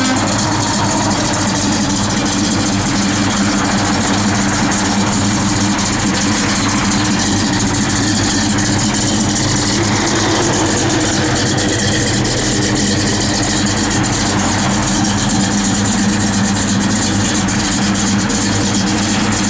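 A 1971 Chevrolet Chevelle SS V8 idling steadily close by, a deep, loud, continuous rumble with a lumpy low-end throb and no voices over it.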